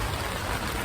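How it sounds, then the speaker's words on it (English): Heavy rain pours down steadily outdoors during a garage sale, a dense, continuous hiss of water close by with no voices, holding an even loudness throughout. "It's pouring down rain"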